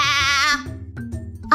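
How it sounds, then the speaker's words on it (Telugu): A goat bleating loudly and close by, one long wavering cry followed by a quieter lull and the start of another call. "ఆ పామును చూసిన మేక ఒకటే అరుపు,"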